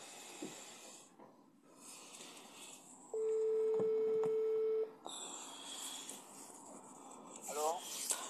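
A steady telephone line tone, likely a dialing or ringback tone on a call being placed back, holds for about two seconds in the middle, with faint room noise and no talk.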